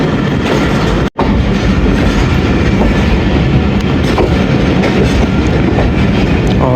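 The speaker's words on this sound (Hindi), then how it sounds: "अभी 127 अब मेहर एक्सप्रेस आई है" Mehr Express passenger train rolling into a station platform, a loud, steady rumble of wheels and clattering carriages close by, with one brief dropout near the start.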